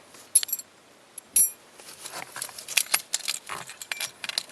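Metal car keys for a 1983 Ford LTD Crown Victoria coupe jangle and clink close by, starting with a few sharp chinks and then a longer rustling jingle as they're handled.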